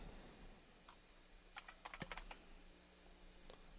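A login password is typed on a computer keyboard, a quiet cluster of close, crisp key clicks bunched in the middle of a faint background hum, with no talking.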